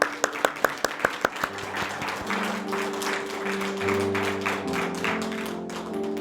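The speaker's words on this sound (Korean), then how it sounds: "나를 위해서 이렇게 살 나 잘하라고 나에게 박수 한번 보냅시다" A church congregation at a Sunday worship service applauds, starting with a few sharp separate claps and then swelling into steady sustained clapping while a sustained keyboard tone plays beneath it.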